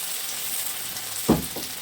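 Pork chops fry in hot lard in a pan with a steady, close hiss of sizzling fat, broken once by a brief clatter partway through.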